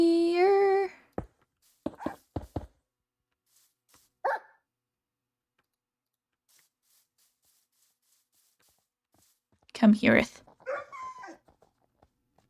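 Dogs bark in a few short bursts, indoors and close, with a long quiet gap between them, while a person speaks briefly over them.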